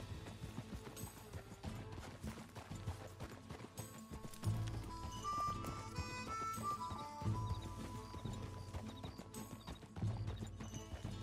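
Rhythmic hoofbeats of a horse being ridden in Red Dead Redemption 2, steady clip-clop over game music and ambience with an occasional whinny, no talk.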